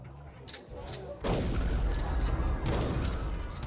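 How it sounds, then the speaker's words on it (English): Drive-by shooting at a party, staged with a couple of sharp early shots followed by a loud, sustained burst of rumbling gunfire and booms. "They jump out and open fire."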